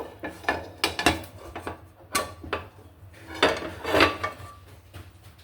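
Food is poured onto a plate, with a run of clattering, scraping knocks of pieces and utensil against the dish, close and moderately loud in an irregular rhythm.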